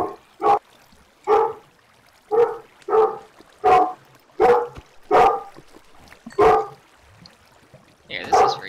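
Cartoonish dog barks from a Minecraft game, about ten sharp evenly spaced yaps in a steady rhythm, close and clear, with a slightly different call at the end.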